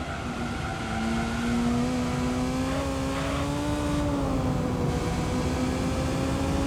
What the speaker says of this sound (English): having nearly 500 horsepower in your S2000 makes it a bit leery